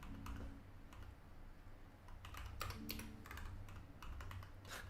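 Someone types on a computer keyboard in quick irregular bursts of clicking keystrokes, close and fairly quiet, with short pauses between runs.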